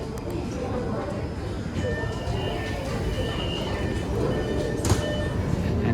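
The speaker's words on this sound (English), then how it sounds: "So we're on the train now," Underground metro train ride in Chongqing, heading toward Liziba station: a steady, loud rumble of the carriage in motion fills the whole stretch, with faint squeals and clatter and people talking throughout.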